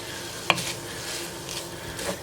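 Ground beef and chicken with garlic are stirred in a pot for soup, a low steady sizzle with one sharp clink of a utensil and soft scraping, close and without talk.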